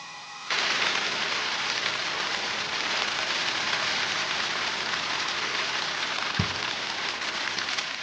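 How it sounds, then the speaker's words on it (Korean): Heavy monsoon rain pours outside during a rainy-day camping trip, a dense, steady hiss of drops hitting surfaces that starts abruptly and continues unbroken, with one faint thud near the end. "비가 너무 많이 내려서"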